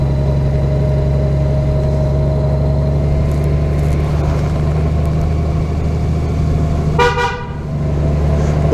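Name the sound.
car horn honk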